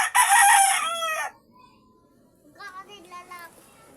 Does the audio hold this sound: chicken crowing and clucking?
yes